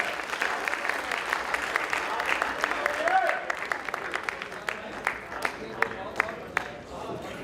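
A poetry gathering's audience applauds as a poet is welcomed to the stage, a thinning wash of clapping with distinct sharp individual claps lingering toward the end.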